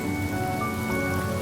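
Steady rain falls in a Honkai: Star Rail game scene, a dense, even hiss of drops with a faint musical drone underneath and no pauses.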